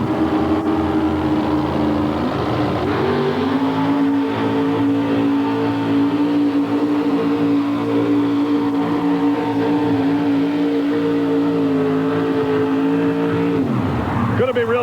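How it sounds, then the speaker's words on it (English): A 1960 Chevrolet pulling truck with a 640-cubic-inch engine roars steadily at full throttle through a long pull in a truck-pulling competition, a loud sustained drone that eases off near the end, with an announcer talking over it. "640 cubic inches in this sharp-looking 1960 Chevrolet they call the Foreplay."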